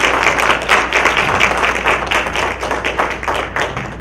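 Audience applause for judicial candidates at a local forum: dense, steady clapping from a room of people, loud and close throughout, with no talk over it.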